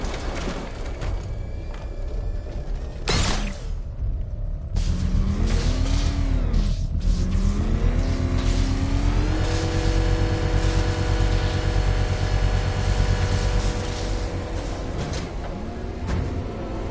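The Batmobile engine in Batman: Arkham Knight on PS4 Pro revs hard and close for a long stretch, its pitch sweeping up and down in repeated surges over a constant engine roar, with no talk.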